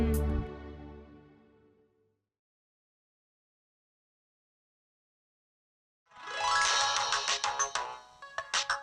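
A phone ringtone sounds a loud, melodic chime that fades out over about two seconds. Silence follows, then a bright musical ringing returns with strong rhythmic pulses.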